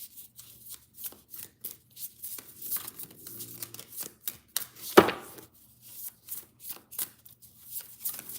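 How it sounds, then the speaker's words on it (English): Tarot cards are shuffled repeatedly in quick riffling bursts, close and fairly quiet, with one sharper snap partway through. "Shuffle, shuffle, shuffle."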